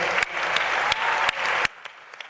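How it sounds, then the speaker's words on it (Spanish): Enthusiastic audience applause at a political talk in Mexico, full dense clapping that cuts off abruptly partway through, followed by a few scattered trailing claps in a quieter room. "a quien pedimos un aplauso, por favor"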